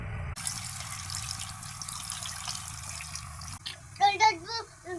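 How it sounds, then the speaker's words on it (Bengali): Water poured into a cooking pot for Maggi noodles, a steady pouring wash running for several seconds, then breaking into louder uneven splashes near the end; no talk over it. "আমি জল ঢেলে দিব।"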